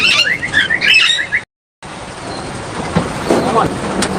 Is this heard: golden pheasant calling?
yes